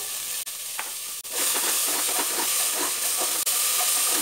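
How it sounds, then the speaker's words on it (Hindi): Mixed vegetables lightly sautéing with a pinch of salt in a pan over a medium gas flame, a loud, dense hiss and sizzle that swells and holds steady. A few short scrapes or taps break in briefly. No talking. "थोड़ा सा क्रंची होने तक हल्का सा भूनेंगे 1-2 मिनट।"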